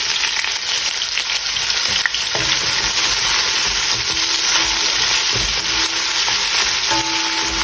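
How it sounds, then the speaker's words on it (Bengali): Chopped onion, bay leaf, cardamom and cinnamon fry in hot oil, giving a continuous bright sizzle with occasional clinks and stirring scrapes, steady and close. "এখানে আমি পেঁয়াজ কুচি তেজপাতা এলাচ দারচিনি সব কিছু দিয়ে দিলাম"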